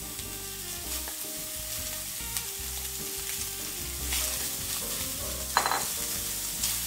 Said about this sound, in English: We're going to saute the bacon till it's lightly brown.